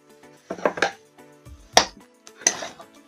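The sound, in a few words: mixing spiced mashed potato with a spoon in a pan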